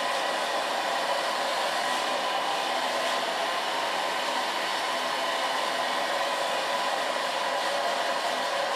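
A hair dryer runs in a steady, unbroken loud whoosh while long hair is dried over a round brush, with no talking.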